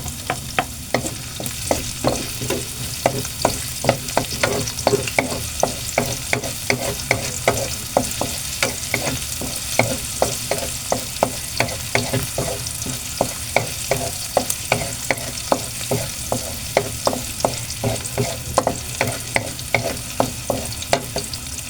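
Onions frying and being stirred in a pan for chicken afritada, with a steady sizzle and regular scraping strokes of the spoon repeating every second or so throughout, close and clear with no talk.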